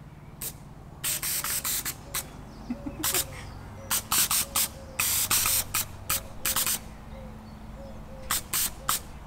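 A drone's gas thrusters, fed from a bottle filled to 100 psi, fire in short sharp hissing bursts in irregular rapid clusters over the steady hum of the main lift propellers.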